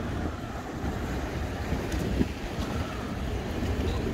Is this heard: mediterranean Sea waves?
yes